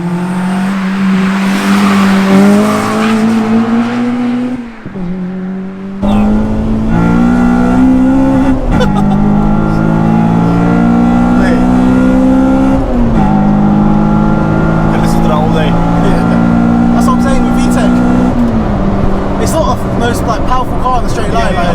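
Honda Civic Type-R EP3 engine revving hard on a race track, loud and close, climbing through gears with brief dips at each shift, and a voice talking over it.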